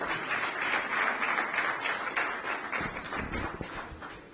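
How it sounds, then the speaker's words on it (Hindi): Audience applause greets a doctor who also writes poetry, at a public event in India; a steady, dense crowd clapping runs through, with some sharper, closer claps toward the end. "जरा कवि के नाम पर तालियां बजा दीजिए।"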